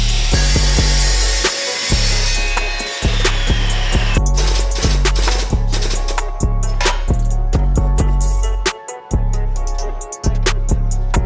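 Loud, steady cutting of a chunk of scrap steel for a homemade off-road differential cover on a Land Rover Discovery build, with a continuous power-tool drone broken by brief pauses and sharp clanks.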